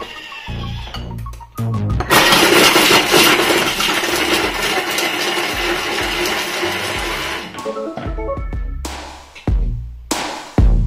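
Thermomix chopping chunks of celery root for about five seconds at speed 5, a loud, harsh whirring roar that starts abruptly after some clicks, runs steadily, then cuts off into a few clunks and taps.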